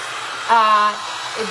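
A handheld hair dryer blows steadily on resin art, a loud continuous whirring hum that swells briefly in pitch partway through.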